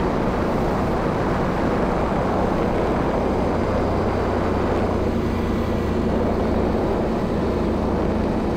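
An Aprilia RS 660 sport motorcycle riding along a twisty route gives a steady, continuous engine drone and wind rush, loud and close throughout with no talk.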